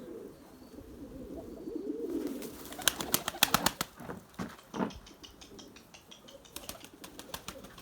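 An Erzurum white breeding pigeon coos softly in low, rolling murmurs close by, with a run of sharp clicking taps partway through and faint background hiss.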